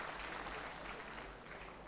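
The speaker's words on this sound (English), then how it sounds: "Please help me give them a round of applause." Applause from an audience at a university council send-off ceremony for a vice-chancellor: steady, dense clapping that fills the short moment evenly without a break.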